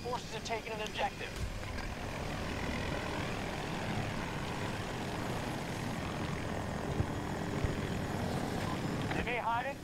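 Helicopter flying in the Battlefield 2042 game, an Apache at a desert colosseum map, a steady continuous rotor and engine roar held throughout under busy battle noise and game voices.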